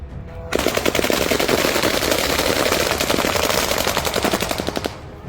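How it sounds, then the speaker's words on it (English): Rapid sustained machine-gun fire aimed at a drone, a long continuous burst of shots at close range lasting several seconds before stopping abruptly. "the soldiers managed to bring it down with concentrated gunfire."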